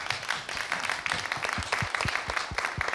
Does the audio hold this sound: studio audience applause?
yes